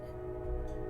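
A train passing with its horn sounding, a steady multi-tone horn blast held for the whole moment over a low rumbling of the train, fairly loud and with no voices.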